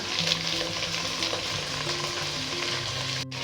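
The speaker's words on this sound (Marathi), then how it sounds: "हे चांगलं ह्या तुपामध्ये परतून घ्यायचं।" Beetroot, cauliflower and peas fry in ghee over a high flame for pav bhaji, a steady close sizzle with faint stirring scrapes, heard alone without speech.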